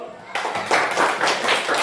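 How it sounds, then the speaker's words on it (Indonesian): A school class claps hands together after a prayer, a burst of brisk overlapping claps that starts abruptly and continues in uneven waves, fairly close and loud. "mari kita tepuk tangan dulu"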